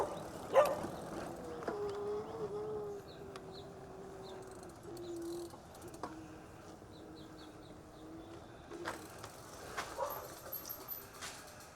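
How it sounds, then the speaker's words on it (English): A neighbor's dog barks outdoors after a bike ride: a few faint, scattered barks near the start and again near the end, over quiet ambience with light bird chirps. "My neighbor's dog is welcoming us."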